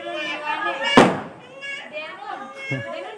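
A small bomb firecracker bursts on a road during Diwali with one sharp, loud close bang, followed later by a fainter thump, while people keep talking throughout.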